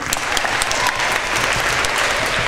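Sustained audience applause fills a community awards night for the West County winners, a dense, steady clatter of many hands clapping with no pauses.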